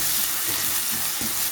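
Capsicum and masala sauté in a hot pan for pav bhaji, a dense steady sizzle with faint stirring scrapes, brief and close.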